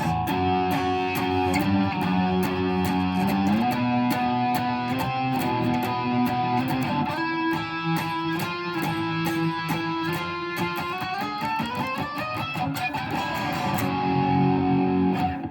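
A distorted electric guitar plays a melodic riff with sustained chords and shifting notes, loud and continuous, with no voices.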